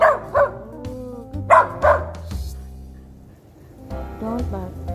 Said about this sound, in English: Don't bark.